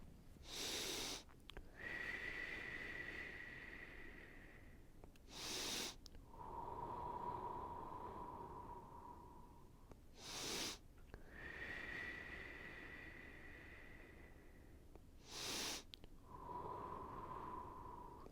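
Slow, deep breaths during a relaxing yoga and meditation flow, with four broad airy bursts spaced several seconds apart, separated by steady quieter stretches and faint background tones.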